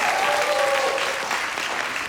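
A studio audience at a Ukrainian-language TV quiz show fills the room with thick, continuous applause, loud and even from start to finish, with a brief tonal voice riding over it early on.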